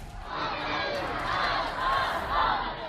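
A crowd at a protester's funeral in Abdanan, Iran, chants slogans against Ayatollah Khamenei, many voices shouting together in rhythmic waves, heard from some distance.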